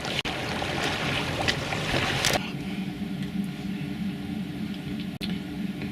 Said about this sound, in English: There's a gentle sail now across Jewett Bay.